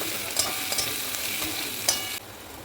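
Onion, ginger, garlic, chili and crushed pepper fry and sizzle in a pan with steady stirring. A constant hiss runs throughout, with a few sharp scrapes from the spoon, and no one speaks.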